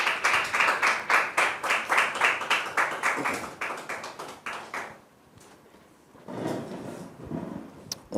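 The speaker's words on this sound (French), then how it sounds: "Merci de recevoir sur ce plateau Dame Déborah et Christ Ivan sous vos applaudissements" A French television studio audience claps in a brisk, rhythmic burst that fades out by the midpoint, followed by a brief quiet lull and then a shorter second round of applause near the end.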